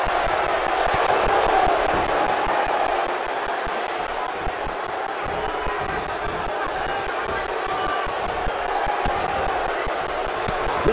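A virtual arena crowd roars through a title wrestling match between Vader and AJ Styles in the video game WWE 2K18. The dense cheering holds steady and loud with scattered claps and thuds, and there is no talk.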